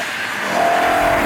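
A BMW E92 M3's high-revving naturally aspirated V8 sounds loud and steady, its pitch holding as a sustained engine note runs throughout with no voices.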